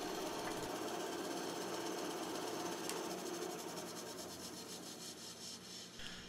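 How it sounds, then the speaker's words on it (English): A small bandsaw cuts out the handle of a wooden table-saw push stick, giving a steady, continuous buzzing whine at fairly low level that holds evenly from start to finish. "went over to the bandsaw to cut it out"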